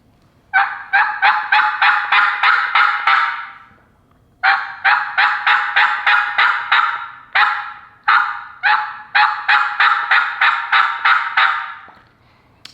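A mouth call imitates a wild turkey hen's yelp in sharp, evenly spaced raspy notes, delivered in three close, loud runs of about eight to ten yelps separated by short pauses.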